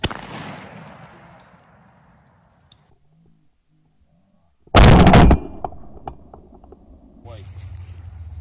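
A shotgun fires once while bird hunting outdoors near water, a loud sharp blast that clips briefly. A fading rumble and scattered knocks follow, then distant voices near the end.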